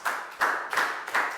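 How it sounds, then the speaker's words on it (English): A classroom of Year 4 pupils claps during a maths lesson, in short bursts of applause that swell and fade several times in quick succession, fairly close. "a big round of applause for Pak Bung, guys."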